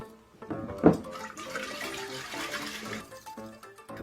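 Oil is poured into water in a handwashing science demonstration, giving a soft, close liquid pour and splash with a brief sharper glug near the start, followed by a gentle trickle that fades out.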